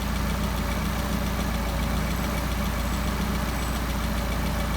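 A car engine with a Solex carburetor idles steadily at about 700 RPM, a continuous low, even rumble close to the microphone with no pauses and no talk.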